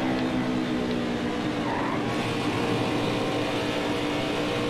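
Race cars roar continuously on track, with a dense engine drone and tire noise as one car runs alongside on the outside of another, near and loud throughout.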